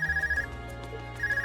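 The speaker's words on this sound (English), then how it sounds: "Is that your Arcus ringing?" An ARCUS communication device rings in the video game Trails of Cold Steel, giving a bright electronic ringtone that trills in short repeating bursts, with a brief gap between rings over a low musical backdrop.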